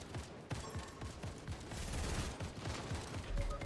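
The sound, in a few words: gun firing continuously in video game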